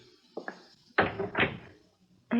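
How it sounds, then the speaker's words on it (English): A door closes indoors with a few light knocking bumps followed by two solid thuds and a final clunk, close and clear in an otherwise quiet room. "Close the door, please."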